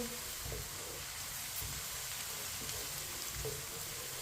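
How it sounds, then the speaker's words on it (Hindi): Onions sizzle and crackle steadily in a pan over medium heat for masoor dal, a soft, continuous frying hiss with faint scattered pops and no talking. "प्याज को हल्का सा ब्राउन कर लेंगे।"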